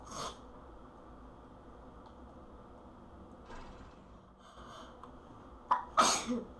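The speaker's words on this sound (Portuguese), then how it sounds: "Pronto, espirrei." A single sharp human sneeze from someone with a bad cold, sudden and loud near the end after a quiet stretch of faint room noise and soft rustling.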